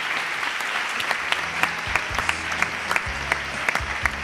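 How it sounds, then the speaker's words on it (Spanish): A studio audience at a live comedy interview show breaks into applause, dense clapping with scattered sharper claps and a low hum underneath, holding steady throughout. "Un aplauso para Andrés Llena."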